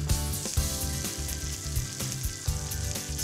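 Flour-dredged chicken pieces crackle and sizzle loudly in a pan of hot oil, a busy, close frying spatter with bursts of popping throughout.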